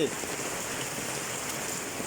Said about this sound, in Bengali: দেশে প্রচুর বৃষ্টি হইতেছে